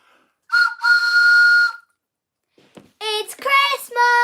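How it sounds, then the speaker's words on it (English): A whistle sounds as a headline bong on a Christmas-themed show, one sustained shrill blast that stops abruptly, followed after a pause by excited talking from several people. "we're going to use this as the bong today. Where's my whistle gone?"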